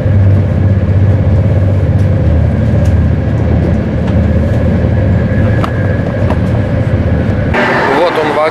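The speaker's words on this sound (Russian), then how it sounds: "3 часа пути на скоростном поезде до Ромы." Steady low rumble and rattle of a high-speed train carriage in motion on a three-hour run to Rome, with people talking over it, ending in a brief burst of higher noise.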